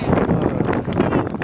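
Wind gusts across an outdoor football pitch during a Sunday league match, producing loud, continuous buffeting rumble against the microphone with no clear speech.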